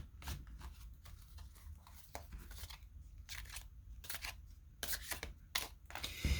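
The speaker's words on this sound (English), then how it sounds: "As I'm shuffling the cards" Tarot cards being shuffled by hand, soft papery riffles and flicks in irregular bursts, close and quiet against a hushed room.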